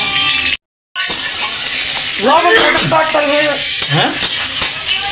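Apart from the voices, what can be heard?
salt added to hot oil, sizzling tempering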